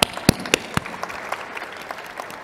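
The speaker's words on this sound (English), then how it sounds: "Can we just give a welcome and a round of applause to Amie?" A conference audience claps to welcome a speaker, with a few sharp, loud claps up close standing out over a thinner scattering of applause that trails off.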